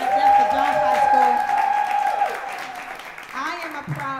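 An audience claps for Jones High School, scattered applause sitting under a voice that speaks over it throughout.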